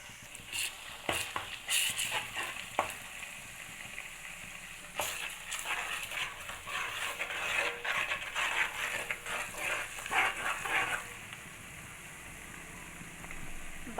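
Curry leaves and ginger garlic paste frying in oil for a fish curry, a steady close sizzle with repeated sharp clinks and scrapes of stirring early on, calming to a softer even crackle toward the end.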